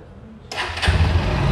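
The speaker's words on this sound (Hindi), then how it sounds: "अब बाइक को कर देते हैं स्टार्ट" A 2024 Bajaj Pulsar NS125 motorcycle starts up with a short starter whir that catches into a loud, close, steady idle of the 125 cc single-cylinder engine.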